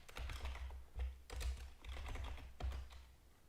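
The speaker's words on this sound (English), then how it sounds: "I'll just type that" Fingers tap out a short command on a computer keyboard under Linux Mint, a quiet close-up burst of key clicks in quick uneven clusters with brief pauses between.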